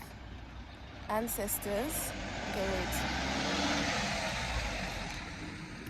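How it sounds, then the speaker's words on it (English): Cars passing on a road near a bus stop in South Africa, a low rumbling swell of traffic that builds and fades under a person's speech, with a louder vehicle pass in the second half. "Sorry for the noise, there's cars passing by."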